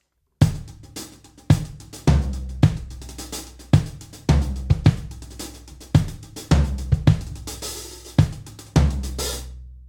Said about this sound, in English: floor tom, beat number 4. Sounds like this.